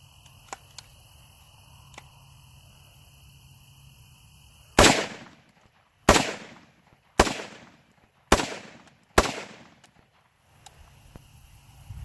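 Five loud, sharp gunshots ring out from a custom AR47 rifle built on an AR-15 platform. The shots come at roughly one-second intervals, each with a short decaying tail, and there is no talk between them.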